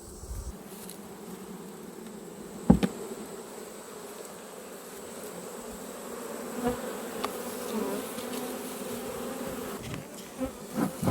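Honey bees hum continuously around an open beehive, a dense, steady buzz close by, broken by a few sharp knocks from handling the hive.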